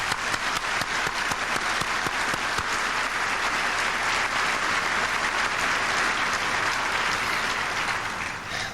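A commencement audience at a 1997 high school graduation gives a sustained round of applause for the valedictorian, a loud, dense, continuous clapping from a large crowd that holds steady before tapering slightly at the end.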